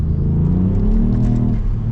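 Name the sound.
Ford Fiesta ST Stage 1 wheelspin at full throttle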